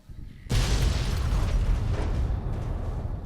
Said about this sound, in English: Arcade stares at the explosion.